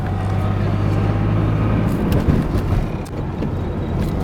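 A 1980 Porsche 911SC Targa pulls along in third gear, its engine droning steadily and loud from inside the cabin with a continuous low hum and road noise.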